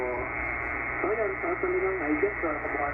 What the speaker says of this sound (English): You can hear the noise underneath him very strongly, but you can still copy him.